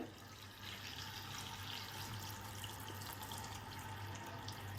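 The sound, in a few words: water poured into a bowl of grapes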